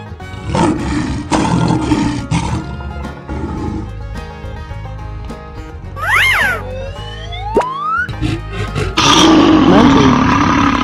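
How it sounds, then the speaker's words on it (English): A lion roars loudly amid busy music, with a burst of wavering, siren-like calls in the middle before the music swells again. "Lion."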